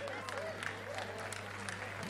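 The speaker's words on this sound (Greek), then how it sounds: "ο πατήρ Γεώργιος Παπαδόπουλος, το χειροκρότημά μας για τον πατέρα" Audience applause for a parish priest at a Greek community cultural event with folk dances, a steady wash of clapping throughout with voices mixed in.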